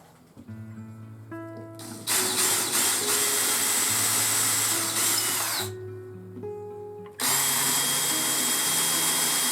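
Power drill boring into a wooden stick-chair seat, whining steadily at close range in two long bursts with a short pause and lower-pitched motor tones between them.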